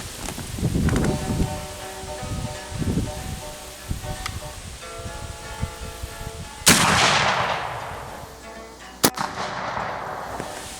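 A Cabela's .58 caliber Hawken muzzleloading rifle fires a patched round ball, giving one sharp, loud report late in the clip that rings out into a decaying tail, with a smaller crack afterward and a voice talking earlier.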